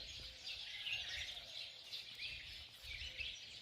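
Birds sing and chirp continuously at a distance in Halfeti, Turkey, soft and layered over a faint low background hum.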